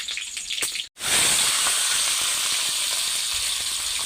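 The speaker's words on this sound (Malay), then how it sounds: "baru kita goreng." Loud, steady sizzling of boiled python meat frying in hot oil, starting abruptly after a brief silence and continuing with crackling pops throughout.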